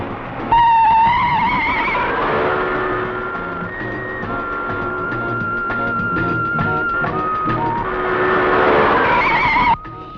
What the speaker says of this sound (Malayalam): എന്താ വണ്ടി നിർത്തിയത്